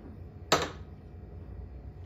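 A single sharp hammer strike on a vintage GEX/Frigid box fan bearing held in clamps, one bright metallic impact that rings briefly and fades against quiet background hum.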